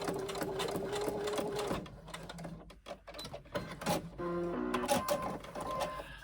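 A sewing machine stitches a short row just above a slit on a hobo shoulder bag, running in close, whirring bursts with brief pauses between them.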